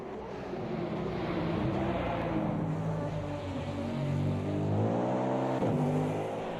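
A Cadillac race car engine in Automobilista 2 drones loud and steady, its pitch climbing and dipping through gear changes as it accelerates, with no voices.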